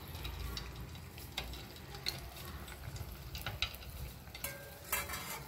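Rava sweet frying in hot oil and being turned to its other side: a soft, steady sizzle with a few faint clicks and scrapes, quiet and close.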